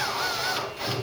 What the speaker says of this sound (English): So I'm going to drill these spot welds here now